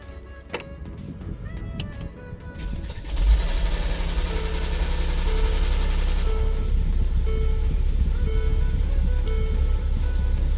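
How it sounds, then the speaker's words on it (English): A Mercedes engine with suspected camshaft position sensor trouble cranks and starts with an odd mechanical noise, then settles into a steady, fairly loud idle with a faint recurring whine and no talking. "we had this crazy noise as you heard it, but the engine started"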